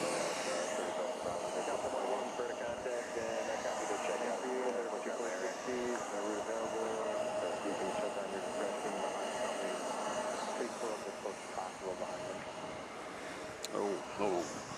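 A Virgin heavy jet at JFK airport gives a steady, broad roar that runs the whole time, with people talking over it throughout.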